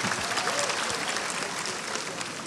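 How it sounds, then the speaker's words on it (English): An audience applauds a speaker at a fireside chat, dense sustained clapping from a crowd that fills the whole moment without a break. "Let's clap for him."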